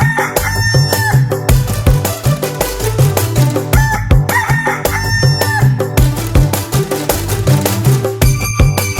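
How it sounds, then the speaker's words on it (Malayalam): Repeated loud rooster crowing and clucking in a children's cartoon song, set over a rhythmic musical backing that keeps a steady beat throughout. "പൂവങ്കോഴി നല്ല കൊക്കര കോഴി നേരം വെളുത്തെന്ന് കൂകി പറയണ കുന്നിമണിക്കോഴി"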